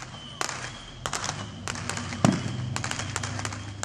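A fireworks missile battery crackles and pops in a rapid, uneven series of sharp bangs, some distant and some closer, with a heavier thump midway, during early Fourth of July celebrations in Auburn, Georgia.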